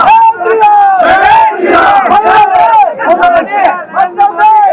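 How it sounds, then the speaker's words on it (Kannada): Crowd of Hanuman devotees chanting pro-Modi slogans while climbing a hill, loud rhythmic shouted cheers from many voices, close and repeated in waves with brief pauses between calls. "ಮತ್ತೊಮ್ಮೆ ಮೋದಿ ಎಂದು ಮೋದಿ ಪರ ಜೈಕಾರ ಕೂಗುತ್ತಾ ಬೆಟ್ಟ ಹತ್ತಿದ ಸನ್ನಿವೇಶ ಜರುಗಿತು"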